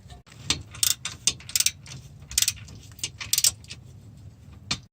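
A ratchet tightens bolts on a 2009 Subaru Impreza WRX heat shield, quick bursts of close metallic clicks with short pauses between strokes, fairly faint, with no talking.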